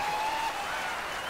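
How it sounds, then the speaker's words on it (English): Audience at an awards ceremony applauds in a brief, even wash of clapping, moderately loud and continuous throughout. "Barbara and Jens deserve a very, very special applause."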